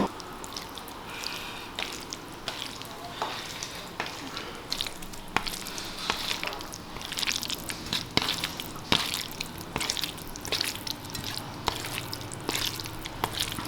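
Spicy barbecue masala is mixed in a pan, giving steady sizzling and frying with repeated wet stirring and scraping clicks. The sound is continuous and moderately close, with no voices.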